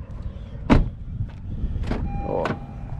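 A Honda Civic's trunk is opened by hand, with a few mechanical clunks and a latch release followed by a short whirring, close and moderately loud with no talking.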